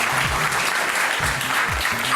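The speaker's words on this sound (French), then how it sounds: "vous pouvez applaudir Jackie, hein, sinon moi je descends" Television studio audience applauding a talent-show contestant, a steady dense wash of clapping with faint low voices or music underneath throughout.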